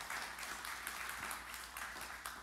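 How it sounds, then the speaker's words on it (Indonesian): Church congregation clapping, a faint, dense spread of applause lasting a couple of seconds with no clear voice over it. "Tepuk tangan yang meriah bagi Tuhan Yesus."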